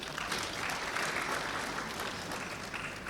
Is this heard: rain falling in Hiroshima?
no